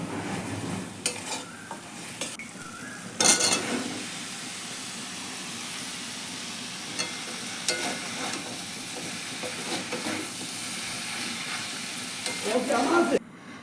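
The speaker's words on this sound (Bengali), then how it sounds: "আমি এই যে সমস্ত মশলাগুলো দিয়ে এই যে এখন কষিয়ে নিচ্ছি।" Onions and spices sautéing in a pan, a continuous close sizzle and hiss with occasional louder stirring scrapes and clatters.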